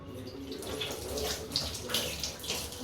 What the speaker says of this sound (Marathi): हात धुवून घेत पहिला